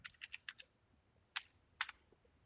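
Quiet typing on a computer keyboard: a quick burst of several close keystrokes, a pause, then two more isolated key presses.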